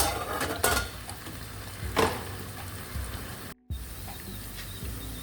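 Spicy garlic potatoes being turned in a pan, soft scraping and clinking of a utensil over a low frying hiss, a few distinct strokes with a brief gap, no speech.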